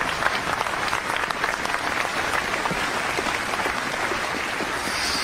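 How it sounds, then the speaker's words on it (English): A live audience at a haunted chapel and mortuary investigation gives a steady, dense round of applause with faint crowd voices mixed in for several seconds. "let's give Sam a round of applause"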